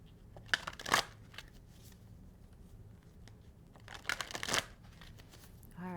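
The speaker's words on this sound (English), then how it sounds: "6 shuffles here." Oracle cards being shuffled by hand, two clusters of quick riffling flutters separated by quieter rustling, close and soft, with no talking.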